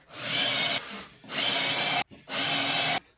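A power drill drives 2.5 inch deck screws into a wooden hanging plant frame in three loud, close whirring bursts with short breaks between them.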